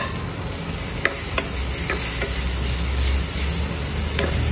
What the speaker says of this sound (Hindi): ऑनियन अशें मातशें सोते जालें म्हणटकीर तितून आतां टमॅटो घालता.